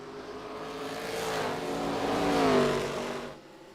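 Race car engines in a sim-racing game at Richmond, a droning whine that swells and climbs in pitch as the cars accelerate down the back straightaway, then fades, with no talking.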